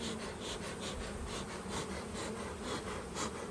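A package of honeybees being installed into a hive hums steadily in a dense close-up buzz, with faint rubbing and movement mixed in.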